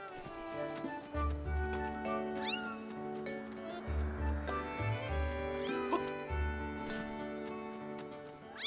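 A cat meows repeatedly in Zelda Skyward Sword, the mews rising over a steady bed of game music with plucked melodic tones.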